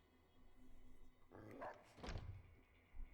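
A dog in Fallout: New Vegas gives a couple of short, sharp barks, fairly close and moderately loud, over a quiet game background.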